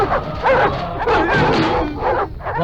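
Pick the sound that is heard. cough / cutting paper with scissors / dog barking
dog barking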